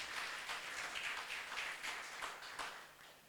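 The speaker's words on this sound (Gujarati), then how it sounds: "તાળીઓના ગળગડાટથી એમને વધાવી લઈએ" An audience applauds a guest at a talk, a soft, even patter of many hands clapping steadily throughout, heard at a low level from a distance.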